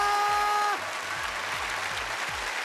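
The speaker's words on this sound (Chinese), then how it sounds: "大家掌声、呐喊声还有吗？" Studio audience applause and cheering on a televised talent show stage, a dense burst of clapping that follows a fading musical tone and continues steadily under a low rhythmic beat.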